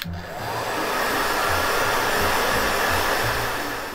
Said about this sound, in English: and a blow dryer,